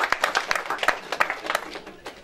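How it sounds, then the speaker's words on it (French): Scattered applause from an audience at the Gabonese awards ceremony in Paris for the nominees, a thin crowd producing distinct, uneven claps that ring out sharply over a soft background patter. "Je vous prie d'applaudir quand même."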